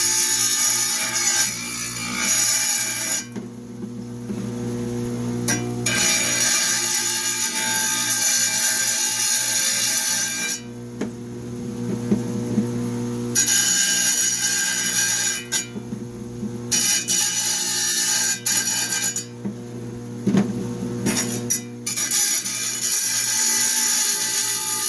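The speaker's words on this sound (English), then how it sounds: "I'm going to take just a little bit off the butt end and a little bit off this end with the kerf of the blade" A Dremel rotary tool with a cutting blade trims the ends of a carved alabaster stone bear, giving a loud, high grinding whine in several sustained bursts separated by short pauses.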